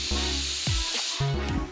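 Spray paint hisses from an aerosol can onto car headlights being restored on a Honda, in three close bursts separated by short pauses.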